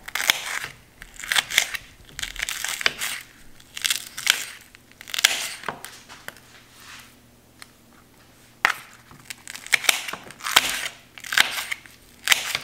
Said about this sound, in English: now I'm going to get this Sugar Rush peach pepper cut up